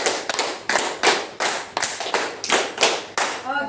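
A group claps a rhythmic pattern in unison, with eight firm, evenly spaced bursts of hand claps in two sets, loud and close, with a brief voice at the end.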